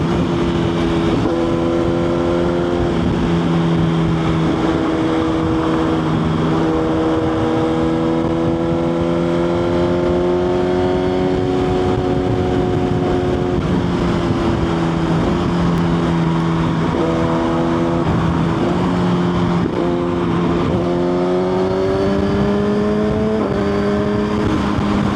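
A Suzuki GSX-R1000 sportbike engine runs close and loud, revving repeatedly up and down in rising and falling sweeps over a sustained idle-like drone for the whole stretch, with no talking.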